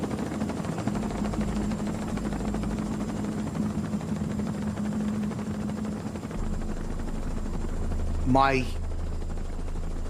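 A helicopter circles the burning World Trade Center towers in New York, its steady rotor and engine drone filling the cabin continuously, with a brief word spoken near the end.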